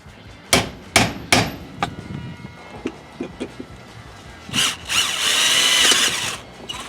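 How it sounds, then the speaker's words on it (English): A power drill bores holes for a shifter bezel in a rusty Fastback, with a few sharp bursts near the start, scattered taps in between, then a longer loud whirring run toward the end. "drill those holes out so we can put this bezel down."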